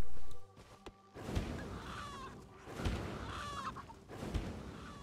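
Chickens cluck in The Elder Scrolls Online, several short clucks rising at intervals over a low game background hum.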